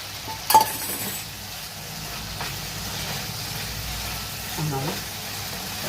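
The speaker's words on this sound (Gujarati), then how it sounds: "આ ફ્રાય કરેલું હતું પનીર એ હું અંદર એડ કરી દઈશ" Fried paneer goes into a sizzling pan with tomato sauce and vinegar and is stirred, giving a soft, steady frying hiss. A sharp utensil clink comes near the start.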